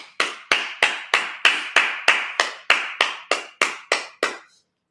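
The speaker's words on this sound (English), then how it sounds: "Clap it up." A congregation at a Sabbath service claps in a steady, even rhythm, about a dozen sharp claps at an unhurried pace that stop cleanly, with no talk over them.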